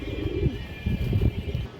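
Red-geared Jabra pigeons give soft, throaty coos in a couple of rolling phrases, close by and moderately loud against a faint background hum.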